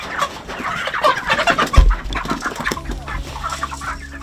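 Chickens clucking close by on a Jamaican farmyard, a busy run of overlapping clucks and squawks with a low thump partway through.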